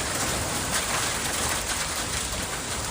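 Heavy rain from a massive Pacific storm on the West Coast pours down in a dense, steady hiss, loud and unbroken throughout.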